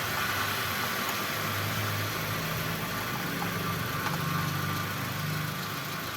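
Toyota Avanza engine idling steadily during brake bleeding, a continuous close, even mechanical hum with broad hiss and no voices.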